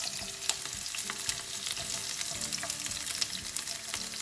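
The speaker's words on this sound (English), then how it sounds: "I'm just going to cook the onions and peppers in there" Onions and peppers frying in oil over high heat in a pan for a healthy pepper and cashew nut chicken curry, giving a steady close sizzle with scattered crackles and stirring scrapes throughout.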